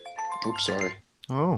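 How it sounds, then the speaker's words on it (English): A home doorbell gives a brief chime that quickly fades as people start talking over it. "That's my doorbell."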